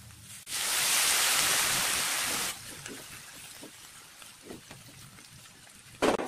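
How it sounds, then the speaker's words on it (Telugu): Water poured into a sprouts curry in a pan, a loud, steady rushing splash for about two seconds. Quieter clinks and stirring follow, then a sharp clatter near the end. No one talks. "ఇప్పుడు కొంచెం వాటర్ వేసుకుందాం."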